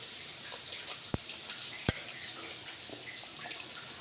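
Seer fish coated in pepper powder and masala roasts in a pan with a soft, steady sizzle, broken by two sharp clicks near the start.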